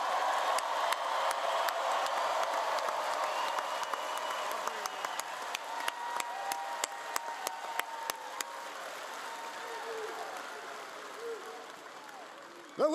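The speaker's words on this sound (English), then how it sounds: "Let's give him another round of applause." A crowd at a Trump rally in Monroe, Louisiana, applauds in a dense, sustained wash of clapping, with individual sharp claps standing out and the noise thinning toward the end.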